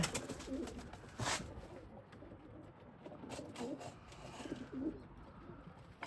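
Pigeons coo softly in a loft at dusk, low faint murmuring calls repeating at intervals over quiet rustling background.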